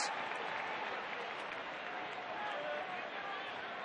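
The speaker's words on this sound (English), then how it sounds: "Huge crowd here at the ballpark." A huge crowd fills a ballpark during a 2010 Astros at Cubs baseball game, a steady broad murmur and applause heard at moderate level throughout, with a voice speaking over it.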